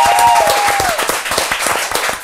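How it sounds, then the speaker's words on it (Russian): Studio audience applauds in a televised kitchen-prize game show, a dense burst of many hands clapping that fades slightly toward the end, with a brief electronic tone at the start. "Ваши аплодисменты, друзья мои."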